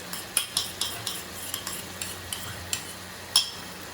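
A spoon stirs cornflour slurry into a semi-thick chilli chicken gravy in a pan: a quiet run of irregular scraping taps with a soft sizzle beneath, no talking.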